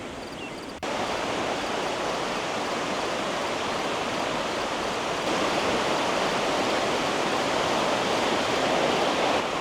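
A river flows along a wildflower-lined hiking trail in a steady, dense rush of water. It starts abruptly and holds constant and fairly loud throughout, with no voices.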